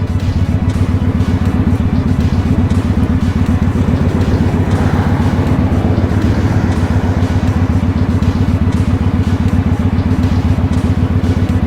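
A motorcycle rides slowly through snow on a freezing day, its engine running as a steady, loud, rumbling drone with a dense clatter throughout and no break.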